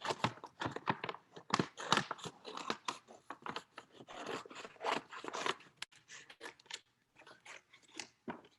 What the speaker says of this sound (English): So I'm going to cut that into a heart shape.